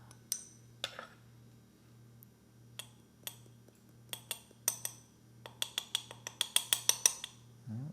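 A spoon stirs organic chili powder and onion powder in a bowl, producing light clinking taps that start sparse and speed into a quick, close rhythmic series.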